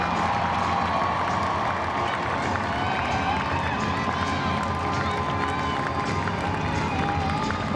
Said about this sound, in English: Plenty of cheers going up from the crowd as everyone has actually gathered around the presentation area